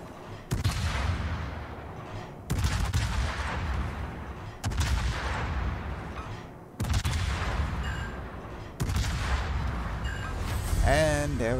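Naval ship guns firing in World of Warships during a Tier 10 battle, five heavy booming salvos a couple of seconds apart, each rolling and decaying, loud and close, with game sounds between blasts.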